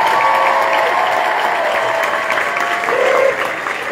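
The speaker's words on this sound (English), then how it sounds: "please give a massive round of applause to Lauren, Amanda and Katie." Steady applause from a concert audience at a show, a dense wash of clapping that holds for several seconds before easing slightly at the end.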